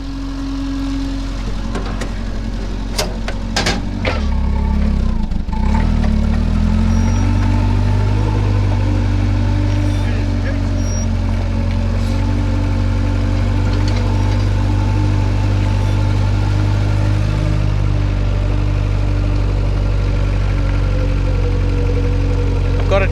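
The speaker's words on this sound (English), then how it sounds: "Got a traffic jam." Car engines idle steadily in a traffic jam, a low continuous rumble with a few clicks and knocks near the start, running unbroken throughout.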